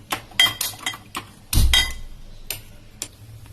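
A cooking pan is set down on a home stove to heat oil for rava bonda: several light metallic clinks and clatters, then one heavier knock and a short rattle, close by with no talking.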